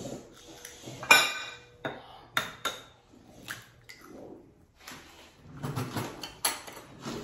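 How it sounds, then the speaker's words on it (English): Two eggs are cracked into a kitchen bowl: sharp close taps and clinks against the rim come in several separate bursts, with quiet handling noise between them. "We wanna crack our two eggs in the bowl."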